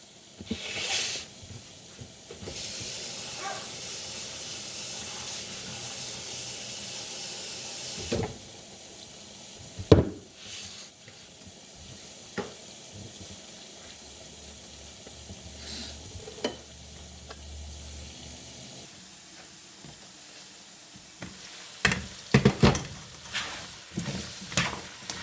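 A sudden loud hiss of water hitting a hot pan of pork and vegetable stew lasts several seconds, then fades into quieter bubbling with occasional clinks of utensils.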